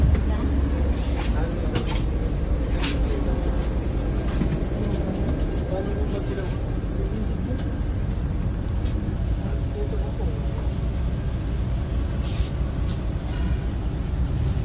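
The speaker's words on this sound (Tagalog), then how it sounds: "Amo ini ang aton sakyan nga Ceres Bus Unit" Steady engine drone and road rumble fill the cabin of a large air-conditioned Ceres passenger bus travelling out of Bacolod, a constant loud hum throughout with a person talking over it.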